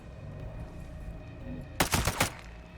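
Rapid burst gunfire in Ghost Recon Breakpoint: a quick cluster of loud, close shots rattles out after a stretch of low ambient hum, then stops abruptly.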